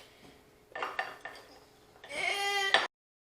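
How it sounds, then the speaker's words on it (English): A utensil scrapes and clinks against a bowl while a candied bacon mixture is stirred: a few short scraping bursts, then a longer, louder scrape up close. "Then you have to stir it up and thoroughly mix it"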